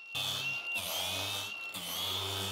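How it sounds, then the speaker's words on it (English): Angle grinder with a carving disc cutting into stone, a close, loud, continuous high-pitched whine with a gritty rasp, briefly dipping in pitch as the disc bites, and no talking. "bust out the carving disc on the angle grinder. Just go for it, let it rip"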